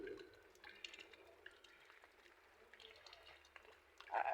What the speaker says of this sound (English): watching the water from the gutters, the rainwater falling into my drum